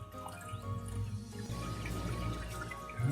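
Water trickles and drips steadily into a fish tank breeder box, a faint, continuous liquid patter over low room hum, swelling slightly near the end.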